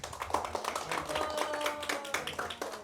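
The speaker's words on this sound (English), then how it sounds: "can we please give a big round of applause to Padma Radha Mataji?" Steady applause from an audience after a devotional talk, dense clapping filling the whole stretch at an even, moderate level.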